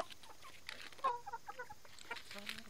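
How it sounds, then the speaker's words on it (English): Silkie chickens cluck softly near a backyard chicken coop, a few short, scattered clucks and murmurs over a quiet background. "you like your silky chickens, Gracie?"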